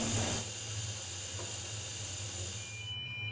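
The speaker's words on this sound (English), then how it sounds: "steam is definitely coming in now" Continuous loud steam hiss into a smoke detector, a broad steady rush of noise that holds for a few seconds, with a faint high alarm tone appearing near the end.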